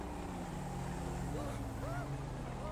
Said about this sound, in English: I can hear engines.